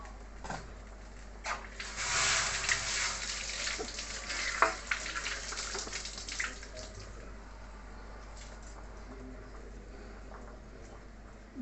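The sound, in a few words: tomato tamarind curry boiling in a pot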